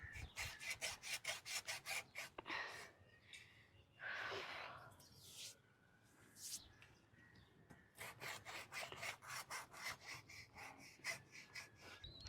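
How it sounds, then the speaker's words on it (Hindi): A hand saw cuts through a tree trunk in rapid, rhythmic rasping strokes, close and fairly loud, pausing briefly midway before the steady back-and-forth sawing resumes. "चलो फिर मैं आरी लाता हूँ,"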